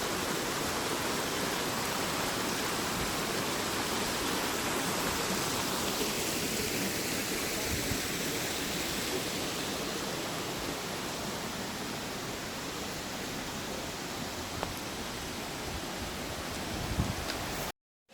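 Bridal Veil Falls in Yosemite pours down in a steady, dense rushing roar that stays constant and fairly close throughout, with no voices over it.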